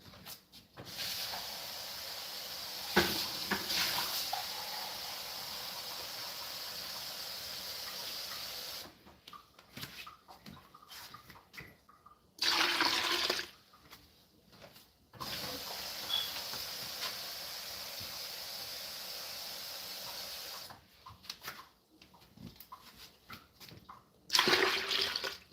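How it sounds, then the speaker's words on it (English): Water poured into a batch of homemade lemonade makes a soft, steady hissing stream in several separate pours with short quiet gaps between them. "Let me put some water in this right quick."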